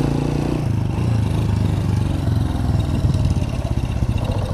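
A broken-down motorcycle's engine runs in a rough, steady clatter, loud and close, with uneven low-pitched pulsing throughout.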